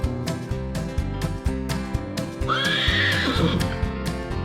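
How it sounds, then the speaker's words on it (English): A horse neighs once, a loud whinny rising and trailing off over a steady, rhythmic musical backing on a farm-animal sound reel. "Horse."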